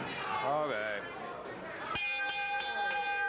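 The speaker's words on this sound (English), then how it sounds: "So there's the official bell to sound" A wrestling ring bell clangs several times in quick succession to end a match at a 1987 Memphis studio show, following commentary and crowd noise.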